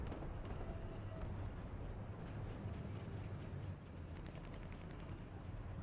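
An enemy Russian tank, probably an IS-1, fires its cannon in a War Thunder tank battle. Muffled booms and blasts come from a distance within a constant roar of noise, with a few sharper hits standing out.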